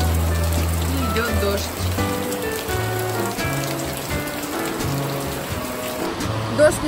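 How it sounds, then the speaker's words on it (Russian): Steady rain pours down outdoors in Yangshuo, a dense continuous patter of drops on surfaces with occasional louder splashes, while faint voices talk underneath. "Дождь не прекращается лить."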